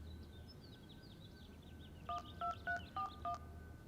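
Five short two-pitch telephone keypad tones in a quick, even sequence, quiet under a faint background hum with soft bird chirps earlier on.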